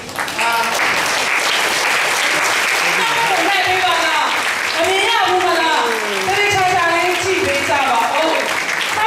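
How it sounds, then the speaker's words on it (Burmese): A church congregation applauding together after the service, steady dense clapping that fills the space, with voices and cheering mixed in throughout. "အားလုံးလက်ခုပ်တီးပြီးတော့သူတို့ကို"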